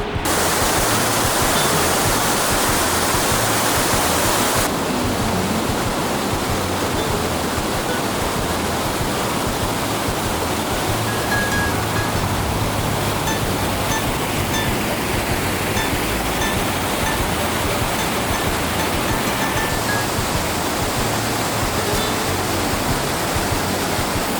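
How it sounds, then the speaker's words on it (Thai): A Norwegian waterfall roars in a dense, constant rush of white water, loud and close without pause, a steady broadband wash with no voices. "ตอนนี้เรามาถึงน้ำตกแล้วนะครับ"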